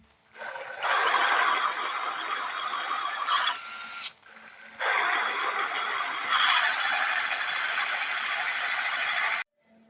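Steady mechanical whirring and rattling from a running gearbox under repair, noisy, two sustained bursts separated by a short pause, fairly close and continuous.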